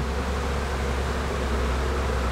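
Honeybees buzz in an opened hive, a dense, continuous hum at close range that holds steady and fills the whole moment with no voices.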